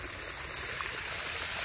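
Water pours steadily into a Berkshire pig's water trough as it is refilled, a continuous close rushing stream with no pauses and no speech.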